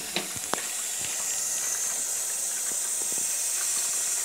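Fresh tap water pours steadily from a faucet in a home in the USA, a loud, continuous close hiss with a few faint clinks near the start.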